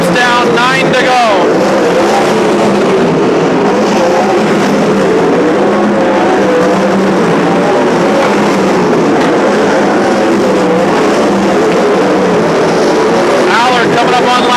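360 sprint cars roar around Petaluma Speedway during a main event, their engines loud and continuous throughout, with overlapping motors swelling and fading as the pack passes.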